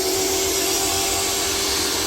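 Pressure washer driving a sewer jetter, a steady loud motorized whine with a sustained pump tone, running alone without talk.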